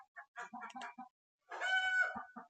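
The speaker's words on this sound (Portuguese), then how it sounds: "As minhas galinhas hoje estão atacadas." Chickens and a rooster give a run of short clucks, then a longer drawn-out crow-like call, fairly close and alone with no talk.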